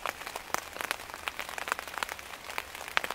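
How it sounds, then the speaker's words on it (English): Rain begins falling on a trail camp during a storm, with scattered light patters and drips tapping close by on a surface, faint and irregular. "So rain has started up."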